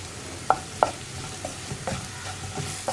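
Ground spices such as coriander powder being stirred in a hot pan while cooking potato masala, with a few sharp scrapes of the spoon against the pan over a low, steady background.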